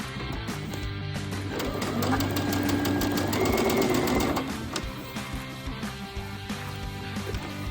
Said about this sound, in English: I'm sewing today on a Novus 5100